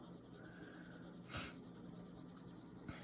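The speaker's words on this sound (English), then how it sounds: "I'm almost making like little circle shapes with my pencil." A pencil shades in small circles on paper, making a quiet, continuous scratchy rasp up close with a couple of brief louder strokes.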